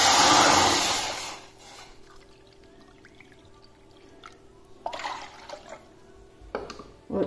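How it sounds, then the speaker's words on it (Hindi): Water pours into a cooking pot to make chakali dough, a bright splashing gush lasting about a second, then quiet kitchen hum broken by a couple of brief clatters and splashes. "तो हमने 2 कप आटे के लिए 2 कप पानी डालना है।"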